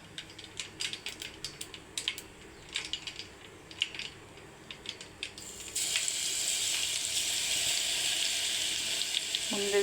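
Mustard and cumin seeds frying in hot oil for a mango pickle tempering, scattered close pops and crackles that give way to a louder continuous sizzle, faint kitchen clatter underneath.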